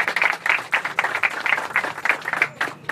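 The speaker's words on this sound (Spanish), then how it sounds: "Un aplauso." A crowd at the inauguration of a broadcasters' walk of honour in La Romana breaks into brisk applause, many hands clapping together in a dense, steady burst for a few seconds.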